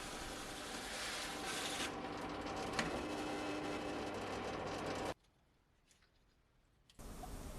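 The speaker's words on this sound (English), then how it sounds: "Drawing out the middle now of the hole with the hole saws." A hole saw bores through wood while a birdhouse is being made, giving a steady whirring, grinding cut that runs for about five seconds, goes quiet, then starts again.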